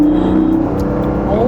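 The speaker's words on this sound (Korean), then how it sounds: "예를 들면은 이제 지금 RPM을 일부러 올리면" Porsche 718 Boxster GTS 4.0 engine with its exhaust sound amplified, holding a loud, steady droning rev with a rising tone, heard from inside the car.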